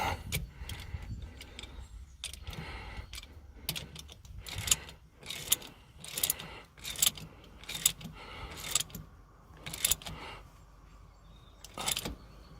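Ratchet clicks and metallic tool handling on an RK74 during a 50-hour service using a 14mm socket, bursts of close mechanical clatter recurring in an irregular rhythm with no talking.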